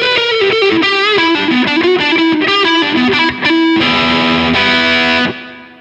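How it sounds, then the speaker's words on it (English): An LT Custom Guitars Privateer single-cut electric guitar on its neck P90 pickup plays a loud, fat, warm riff with distortion and effects, quick notes and held chords, then a sustained chord ringing out. "you've got that neck pickup for those really fat,"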